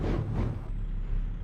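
Engine of an International LT truck in American Truck Simulator, a loud steady low rumble with a brief hiss near the start and no talk.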